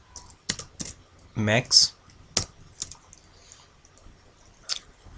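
Keystrokes clatter on a computer keyboard as code is entered, a handful of sharp clicks spread unevenly across a few seconds, with a voice speaking briefly in between.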